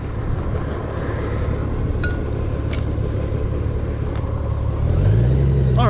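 A truck driving through Pennsylvania scenery in a driving game, a steady loud low engine rumble throughout that swells and rises near the end, with faint clicks over it.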